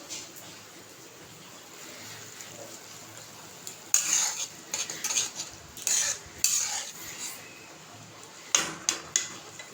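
Turmeric is stirred into a simmering curry in a pan with a metal utensil, giving quiet scraping and clinking strokes that come in irregular bursts over a low, faint background.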